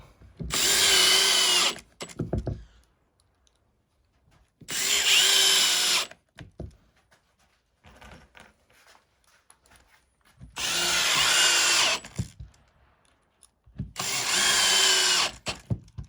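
A power drill whirs in four separate bursts of about a second or two each, driving short screws into a recycled poly ski and board rack, with quiet pauses and light handling clatter between them.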